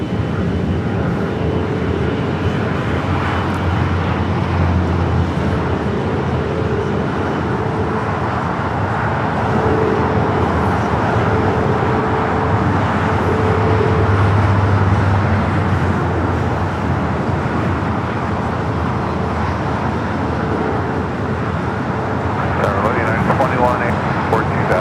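An Austrian Airlines Boeing 777-200ER in My Austrian livery takes off at LAX, a loud, steady jet roar that fills the whole stretch with broadband rumble and only slight swells.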